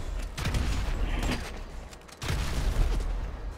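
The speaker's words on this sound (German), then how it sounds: "Hier explodiert alles." Explosions go off in the GTA Online video game: two broad, booming bursts with rumbling low-end and crackling debris, the second arriving about two seconds after the first, fairly loud with no talk over them.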